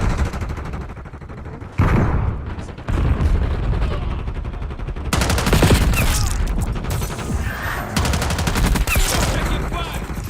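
Dense gunfire from a first-person shooter video game. Rapid bursts and automatic fire rattle nearly nonstop at close range, with louder volleys after a brief lull near the start.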